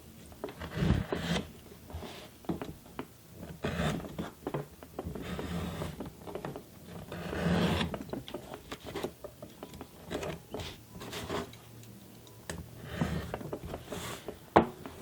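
A knife cuts through tough leather, making close, scratchy rasping strokes in uneven bursts with short pauses between them.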